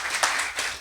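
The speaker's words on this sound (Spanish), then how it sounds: "Dale un fuerte aplauso al Señor." Church congregation applauding during a Spanish-language sermon, a brief burst of clapping with two swells, moderately loud and without speech.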